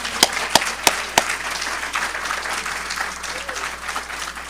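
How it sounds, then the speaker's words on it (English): An audience applauds after a presentation at an event, a few sharp claps at first, then a steady, dense round of clapping from a crowd in a hall. "Let's give them another round of applause."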